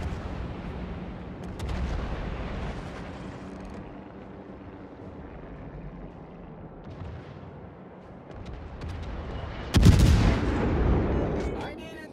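Naval guns firing in a World of Warships clan battle, several booming blasts with a heavy, loud burst near the end, over background game rumble and a radio-style voice.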